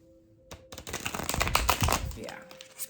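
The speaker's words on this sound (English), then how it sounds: "Easy, easy, easy peasy riffle shuffling." The Wild Unknown tarot cards being riffle shuffled close by, a quick fluttering rattle building after a brief pause, with a voice talking over it.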